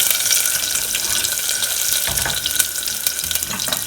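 Roughly chopped garlic frying over a slow flame, a steady close bright sizzle and crackle running without pause, with small bubbling pops, no voices.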